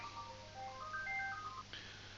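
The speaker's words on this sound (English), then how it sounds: "Sorry, phone was ringing." A telephone rings with a melodic electronic ringtone of short tonal beeps, faint and alone over a low steady hum, with no talking.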